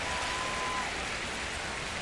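Steady rain falling in the baseball video game MLB The Show 25, a constant even hiss of drops on surfaces throughout, moderately quiet with no speech over it.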